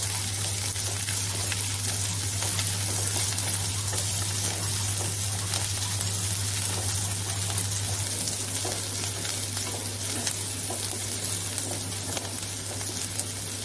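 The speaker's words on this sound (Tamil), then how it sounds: "வெங்காயம் ஆட் பண்ணி நல்லா வதக்கிக்கலாங்க." Onions sautéing in oil in a pan for channa masala, a steady loud sizzle and crackle with faint stirring, continuous throughout with a low hum underneath and no talk.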